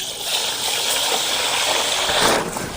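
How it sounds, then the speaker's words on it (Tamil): Water gushes steadily onto Ponni rice in a pot, a continuous, fairly loud pouring rush with a brief surge near the end, while washing rice for village-style mutton biryani. "தண்ணி ஊற்றிக்கண்ணே."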